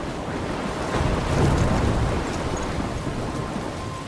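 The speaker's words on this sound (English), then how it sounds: "I'm trapped in a storm?" A storm in Life is Strange: a loud, continuous roar of wind and crashing waves that swells in the middle and keeps rumbling steadily with no voices.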